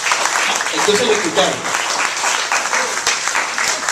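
A church congregation applauds during a Spanish-language sermon, with a steady wash of clapping that continues for several seconds while the preacher speaks over it.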